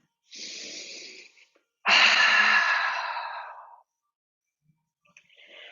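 During a yoga session, a person takes a cleansing breath: a short breathy inhale, a pause, then a longer, louder sighing exhale that fades out, close and otherwise quiet.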